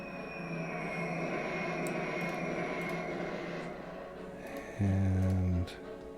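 Droning aircraft engines of planes in a war strategy video game, a steady broad hum with a louder low-pitched engine surge near the end, faint talk underneath.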